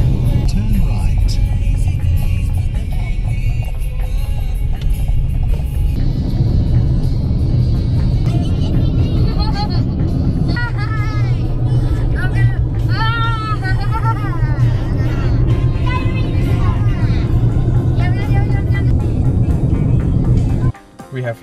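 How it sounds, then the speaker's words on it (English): A car drives along an outback road toward Uluru, its steady low engine and road rumble heard from inside the cabin, with people talking over it almost throughout. "now we're driving towards Uluru"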